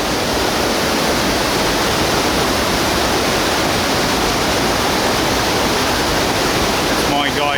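Loud, constant roar of a waterfall at Kulen's Elephant Pond in Cambodia, a dense rushing wash of falling water that fills the whole clip without letting up.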